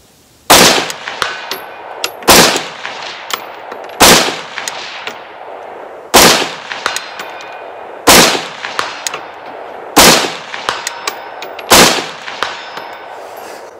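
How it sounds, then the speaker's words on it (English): Rifle shots fired at steel targets through a red dot sight at an outdoor range: seven loud, sharp reports spaced about two seconds apart, each followed by a ringing metallic clang from the hit steel. "we're banging the steel here at 2"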